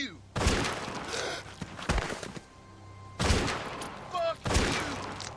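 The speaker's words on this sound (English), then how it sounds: "It ends fast and ugly when one of them guns the other down." Bandits exchanging gunfire in a video game, with loud bursts of rapid shots arriving in several separate volleys and angry shouting between them.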